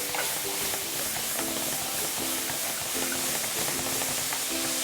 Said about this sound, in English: I'm gonna add a couple tablespoons of this marinade, the steak marinade, and it's gonna help my onions to cook.